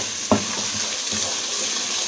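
Mustard greens for sarson ka saag sauté in a pan with a steady, close hissing sizzle, broken by a single brief clatter near the start.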